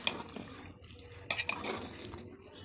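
A mutton curry stirred in a pot, giving repeated scraping and clinking of a spoon against metal with a soft simmering undertone and a sharper clatter partway through.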